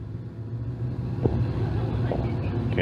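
Thunder cars race at Can Am Speedway under green lights, a low, distant engine rumble running the whole way through, with crowd and arena ambience and a faint voice overhead.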